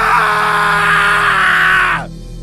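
A man screams at night in a horror film scene, one long sustained loud cry lasting about two seconds and cutting off abruptly, over a low background score.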